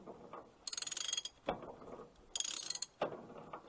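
A crane cable runs down over a pulley while supporting a Beech 18 plane, giving repeated bursts of ratcheting, clicking mechanical noise in two cycles with short knocks between, fairly faint and without talk.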